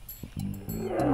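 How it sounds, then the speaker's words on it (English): A lion's roar rises in several deep, rumbling surges that grow louder toward the end, standing alone without voices, played during a children's Bible story about David saving sheep. "A lion!"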